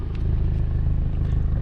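A catless Honda Civic Type R exhaust with its valves fully closed, a steady low idle rumble with dense harmonic drone, fairly loud and continuous throughout, no talk.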